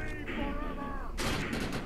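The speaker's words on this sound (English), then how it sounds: "Shot him right in the face" Gunfire in the shooter video game Defiance: a rapid burst of loud, sharp shots with a synthetic whine beneath, close and dense for about a second.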